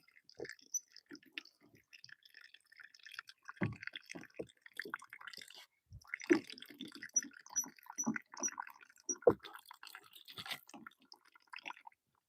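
Rainwater trickling and dripping from the tap of a rainwater collection system, faint irregular splashes and drips with soft gurgles, close by and fairly quiet.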